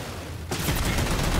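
Gunfire in the video game Halo 4: a sudden burst of rapid automatic shots that starts abruptly after a quiet moment and stays loud and continuous.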